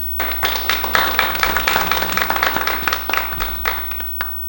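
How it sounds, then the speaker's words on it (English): A round of applause for two contest speakers at a speaking event, with close, loud, dense clapping from a small audience that goes on for several seconds and thins out toward the end. "before I get into the evaluation for Patricia, I just want to encourage a round of applause for both of our speakers."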